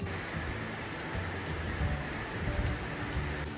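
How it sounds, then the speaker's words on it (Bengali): Heavy rain falling, a dense steady hiss of wash and patter throughout, fairly loud and with no voices over it. "এদিকে দেখুন বৃষ্টিটা আরও জোরে বাড়লো"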